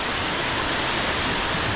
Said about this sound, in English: we have descended down to the Chattooga River